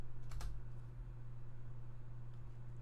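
Keys of a computer keyboard click in a quick cluster near the start, then a couple of faint taps follow over a constant low electrical hum.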